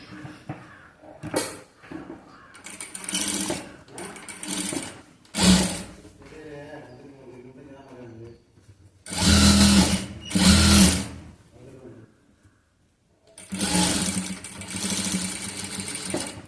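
A sewing machine stitches a sleeve in loud, whirring bursts of a few seconds each, separated by pauses in which a person talks.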